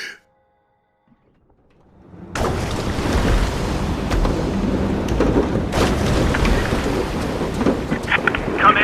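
Stormy weather in the video game A Fisherman's Tale: after a near-silent opening, a loud, steady roar of wind and rain rises and holds, with rumbling swells suggesting distant thunder.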